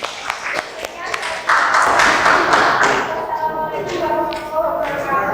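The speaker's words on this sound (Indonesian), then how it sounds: "Tepuk tangan dulu untuk kelompok 1" Classroom applause for a student group, a brief patter of hand claps and taps that swells and then fades, with a teacher's voice talking through it.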